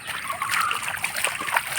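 Floodwater after rain rushes and splashes close by in a steady, turbulent flow, with no voices.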